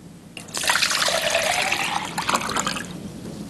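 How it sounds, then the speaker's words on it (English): Roughly a liter of water poured into a beaker of pellets makes a steady, close splashing rush that starts abruptly, holds for about two and a half seconds, then tapers off into faint trickling. "Let's put the pellets into this beaker, and we'll add the water. Just about a liter of water."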